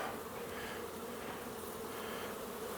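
Honeybees buzzing steadily from an opened nucleus hive, a dense close hum that holds unbroken throughout with no voices.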